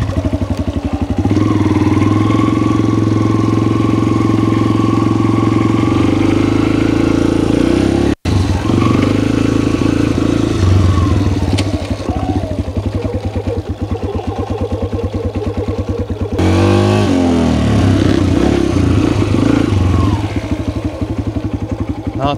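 A Kawasaki KLX 140 dirt bike runs close and loud, its small engine droning and revving through gear changes as it is ridden, with a brief cut and a sharp rise in pitch near the end.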